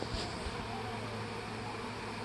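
Honey bees swarming close by a hive give off a steady, dense buzzing drone that holds at an even level throughout, with no voices.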